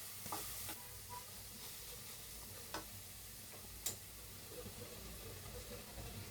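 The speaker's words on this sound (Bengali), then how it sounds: "পেঁয়াজ একটু ভাজা ভাজা করে তারপরে নামিয়ে ফেলবো।" Spinach and onion fry in a pan for a Bikrampur-style palong shak, a soft, low sizzle broken by scattered light clicks of a spatula stirring, with one sharper tap near the end.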